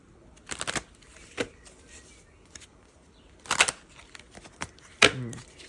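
Tarot cards are shuffled in four short, crisp riffling bursts separated by quiet pauses, close and fairly soft.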